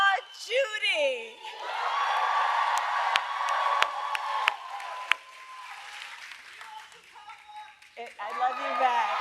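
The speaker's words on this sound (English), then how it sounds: "Can we please applaud Judy?" Audience applause at a political event on the economy with the President and the Vice President, a sustained crowd roar with whoops and cheers over steady clapping, loud and close, with voices shouting at the start and end.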